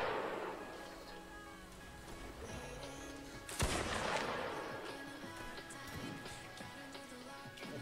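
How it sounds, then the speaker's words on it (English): A single sharp musket shot cracks out in a video game line battle about midway, a broadband burst standing out over steady ambient battle noise and a low hum. "That musket to your right is reloaded. Oh, nice. I'll take a shot here."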